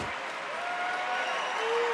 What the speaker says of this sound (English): He'll get a standing ovation from this Buckeye crowd